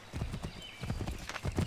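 In Assassin's Creed 3, a horse's hooves clip-clop in a quick, uneven rhythm of soft thuds at close range, with no talking.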